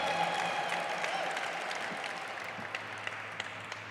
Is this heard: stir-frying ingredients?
no